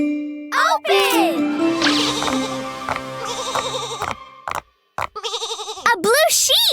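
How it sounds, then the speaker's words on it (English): A cartoon sheep bleats in a wavering, tremulous voice over bright music and chimes, with short playful sound effects and cartoon voices around it. "A blue sheep!"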